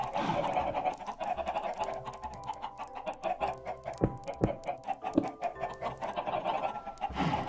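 Minecraft chickens cluck in a steady, busy stream of short, close calls amid game sounds, with a few sharper knocks standing out, and no talking.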